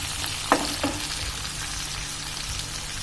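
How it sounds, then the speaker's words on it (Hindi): Two medium tomatoes, finely chopped, fry in oil for dal fry with a steady close sizzle, broken early on by a couple of quick utensil knocks. "उसको भी थोड़ा फ्राई कीजिए ऑयल में"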